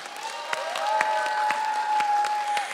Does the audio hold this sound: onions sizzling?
no